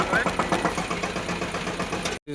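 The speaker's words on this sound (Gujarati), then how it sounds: "અહીંયા છે અમારી મોટર ચાલુ છે" A farm water-pump motor runs steadily at an orchard, with a loud, continuous mid-pitched hum and a faint rhythmic pulsing that cut off abruptly near the end.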